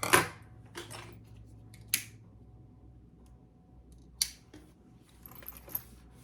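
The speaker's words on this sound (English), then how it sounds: "I'm going to cut this excess zipper off." Scissors snip off the excess length of a zipper in a few separate crisp cuts spread over several seconds, close and fairly quiet, against a faint room background with no talking.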